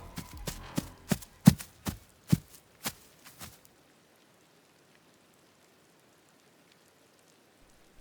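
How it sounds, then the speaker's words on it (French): Rain falling in a dark audio drama scene: a short run of distinct, fairly close drops or taps over the first few seconds, then near silence with only a faint background. "Seuls les gouttes de pluie et sa respiration sont maintenant audibles"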